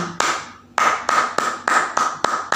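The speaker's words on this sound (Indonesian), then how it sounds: "ada aba-aba 3 kali tepuk pramuka" Scout-style rhythmic clapping by a leader at a school scout orientation session: a series of sharp, close hand claps in a steady pattern, roughly seven crisp claps after a short pause, with no talking.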